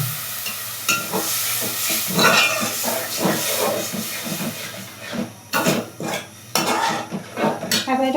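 Food sautéing in a pot, with repeated metal scrapes and clanks of a spoon against the pan over a steady sizzling hiss, irregular bursts of stirring close up and no talking.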